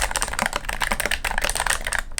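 Fast, steady typing on a Keychron mechanical keyboard, a dense run of crisp, close clacks with no speech.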